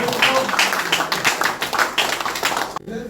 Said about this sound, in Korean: 열광해 주신 우리 목사님께 다시 한번 뜨거운 박수 부탁드립니다